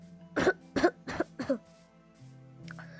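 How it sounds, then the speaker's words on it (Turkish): A person coughs four times in a quick run, sharp bursts close to the mic during a Minecraft gaming session, followed by quiet background hum. "Kusura bakmayın arkadaşlar da e, e, öksürdüm."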